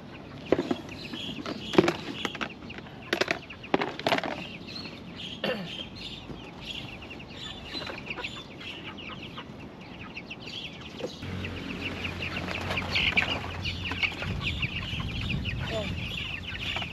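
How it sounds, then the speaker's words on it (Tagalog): Backyard chickens cluck at feeding time on a drizzly morning, with scattered close clucks and calls over a light ambient hiss; a low rumbling noise grows in the second half. "magpapakain muna tayo ng ating mga manok"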